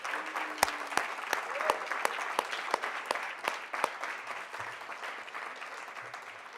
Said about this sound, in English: I just wanted to get another warm round of applause for our panel